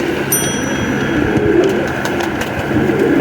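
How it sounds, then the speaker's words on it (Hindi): Pigeons coo softly and repeatedly nearby, their low murmuring calls blending with other faint bird chirps. "खूबसूरत जामनी पैरों का कबूतर है ये"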